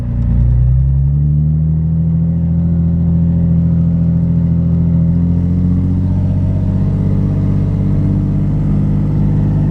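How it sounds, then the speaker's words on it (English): Nissan 350Z engine held at steady, loud revs in first gear while the brakes are applied together with the throttle, a continuous low drone with a slight rise in pitch and no talking. "First gear, accelerate and brake at the same time."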